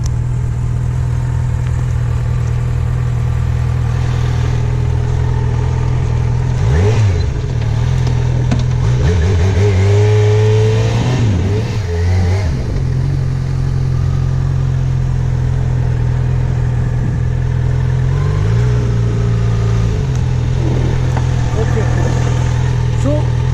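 Yamaha FZ6R motorcycle engine idling and revving briefly during a motorcycle road test, a steady low engine hum throughout with a couple of short throttle rises, while people talk over it.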